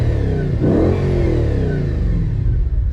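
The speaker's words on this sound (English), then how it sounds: "Hit the sport button. You can actually hear the valves open." An Audi RS4 engine revs up sharply with its exhaust valves open, then holds a loud, throaty drone with a deep exhaust note, close and steady throughout.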